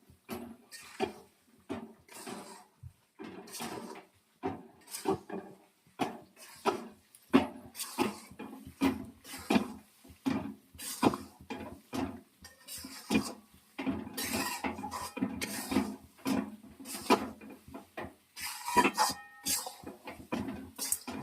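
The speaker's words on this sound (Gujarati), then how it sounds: "આપણે લોટ નાખી દીધો થોડીક હલાવી આપણે" Flour being stirred into ghee in a pan for sukhadi, a Gujarati sweet, gives a steady run of short scraping and clinking strokes from a spoon against the pan, close and fairly loud, with no talking over it.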